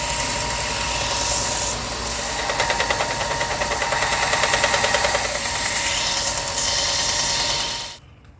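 Grinding material off a workpiece: a steady, loud, rasping abrasive whir runs for about eight seconds with slight swells in intensity, then cuts off abruptly.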